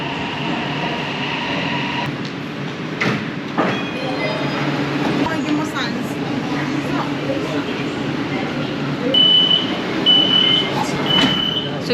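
A metro train in a Chinese city running between stops: a steady rumble with rail clatter throughout, brief high beeping tones near the end, and faint voices in the carriage.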